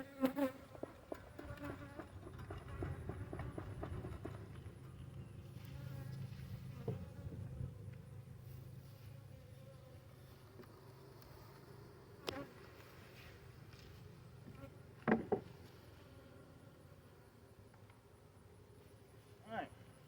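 Honey bees buzz softly around an opened nucleus hive in a South Louisiana bee yard in January after a little smoke. The low drone is continuous and fairly faint, broken by a few sharp clicks and knocks from handling the hive.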